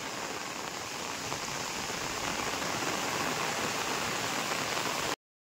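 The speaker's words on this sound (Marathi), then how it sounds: "मंडळी पाऊस जरा जोरात चालू झाला" Heavy rain pours down in a village on Krishna Janmashtami day, a dense, even hiss of water striking surfaces that holds steady throughout before cutting off abruptly, with no voices.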